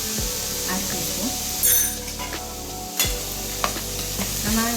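Coriander powder, turmeric and garam masala being stirred into snake gourd and lentils in a frying pan, with a soft sizzle under repeated close scraping and clinking of a spoon against the pan.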